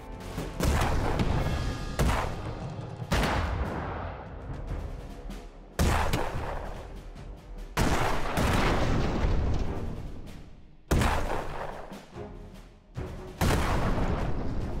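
Cannon and gunfire from warring airships in the game Airships: Conquer the Skies, heavy booming volleys that strike every second or two and then trail off into rumbling decay, loud and repeated.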